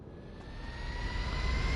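A fixed-wing airplane engine in the video game GTA V gives a steady, loud droning roar that swells slightly over the short stretch, with no talking.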